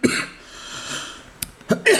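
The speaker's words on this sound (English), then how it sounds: "I have a cough coming." A person coughs close to the microphone while picking a concealed shackle padlock, a few rough bursts spread over about two seconds, with quieter breathy sounds between them.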